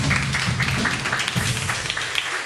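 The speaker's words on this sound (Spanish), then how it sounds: "Dale un aplauso al Señor por eso," Church congregation clapping together during a service, a steady, fairly loud patter of many hands with uneven bursts throughout.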